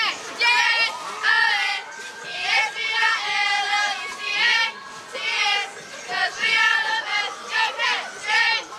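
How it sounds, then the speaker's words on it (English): Wildcat cheerleaders chant a rhythmic cheer in unison at a parade in Jonesville, South Carolina, their high voices loud and close in repeated bursts over crowd noise. "Stop and do a cheer."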